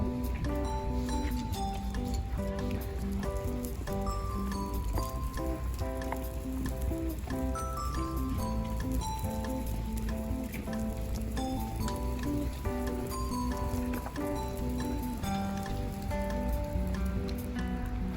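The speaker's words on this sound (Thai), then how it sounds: "ตอนนี้อากาศเริ่มฝนเริ่มมานะครับ ลงเม็ดแล้วนะครับ" Rain falls outside a hospital in Etterbeek-Ixelles, Belgium, a light, even patter of drops on surfaces that continues without pause and without voices.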